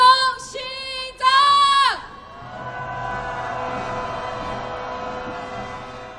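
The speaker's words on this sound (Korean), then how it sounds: "함성 시작!" At a candlelight protest march toward the Japanese embassy, a leader's amplified voice chants briefly, then a sustained roar of crowd shouting and cheering rises and holds steadily at a distance.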